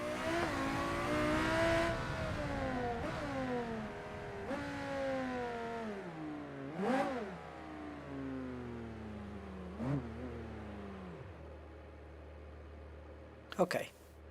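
Car engine in a driving video game, revving up and down in rising and falling sweeps, fairly close. The car has engine damage. A sharp burst comes near the end.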